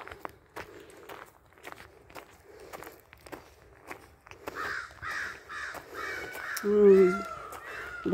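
Crows caw several times, fairly distant at first, over crunching footsteps, with a louder burst of calls near the end.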